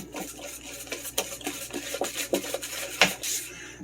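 German chocolate cake batter being mixed by hand in a bowl, with repeated soft scraping and clinking strokes in an uneven rhythm, close and fairly quiet, with no talking.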